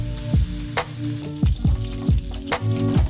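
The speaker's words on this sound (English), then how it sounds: "now he is frying them to make some oil" Fatty duck skin frying in hot oil to render it, a steady sizzle broken by several sharp crackles and spatters, close and fairly loud, with no talk.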